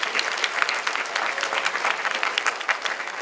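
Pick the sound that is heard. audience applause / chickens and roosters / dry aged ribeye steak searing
audience applause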